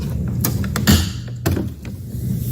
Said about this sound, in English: first step is locate the water filter cover door in the base grill